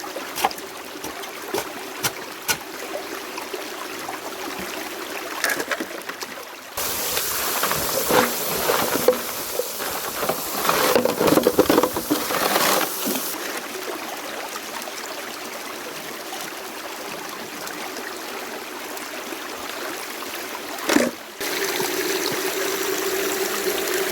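Water from an 1100 gallon per hour pump flowing and splashing at a gold prospecting high-banking setup on ancient gravel, a steady rushing trickle close by, with louder bursts and knocks partway through.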